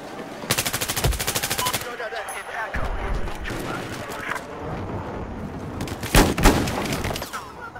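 Rapid automatic gunfire bursts in Battlefield 4 on the Hainan Resort map, loud and repeated in clusters with quieter gaps between, while players talk over it.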